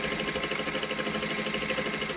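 Sewing machine running steadily while backstitching the centre seam of a fabric mask, a close, even mechanical whir with rapid needle rhythm throughout.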